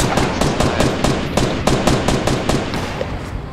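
Rapid, evenly spaced pistol shots from the video game Fortnite, a loud close volley of about a dozen sharp cracks over a few seconds.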